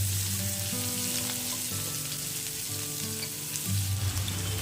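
Onion and potato fry in oil left over from frying fish, a close, steady sizzle and crackle throughout with faint stirring and no talk.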